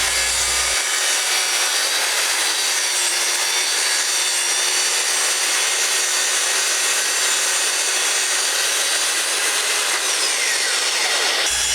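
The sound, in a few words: hand sawing the cloudlift top rail of a wooden gate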